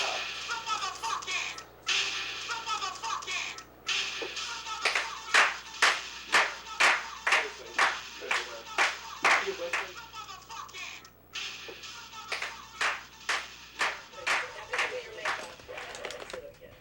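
A small group claps for a girl in a series of sharp, separate bursts with gaps between them, close and fairly loud, while voices talk in the background.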